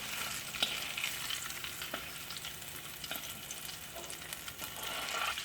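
Noodles for Tuaran-style egg noodles frying and being stirred in a pan, a steady close sizzle with soft scraping stirs and occasional clicks, no voices.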